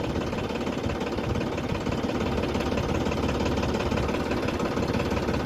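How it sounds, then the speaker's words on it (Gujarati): Three heavy diesel tractor engines rumble continuously with a knocking, chugging texture, loud and close, with no pauses throughout, while digging a farm pond. "ત્રણ ટ્રેક્ટર હાલે છે, કાલના ચાલુ કર્યા."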